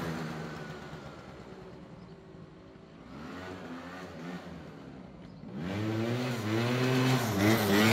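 A Jog scooter engine revving, a mid-pitched buzzing two-stroke note rising and falling through several throttle sweeps and growing louder toward the end, with no talk.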